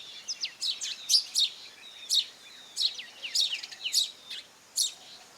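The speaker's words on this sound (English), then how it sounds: "These feathery friends are house sparrows, common visitors to our urban landscapes." House sparrows in an urban spot, taking a dust bath, give a run of bright, sharp chirps in quick irregular bursts, close and clear over a near-silent background.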